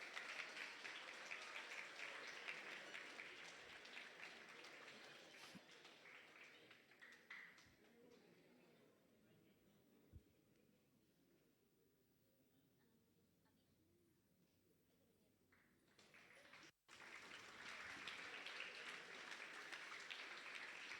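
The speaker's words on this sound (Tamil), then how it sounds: "மீண்டும் ஒரு முறை பலத்த கைத்தட்டல்." Audience applause at a school award ceremony, a cash prize and certificate presentation in Malaysia; steady clapping fills the opening seconds, fades to quiet, then returns just as full near the end.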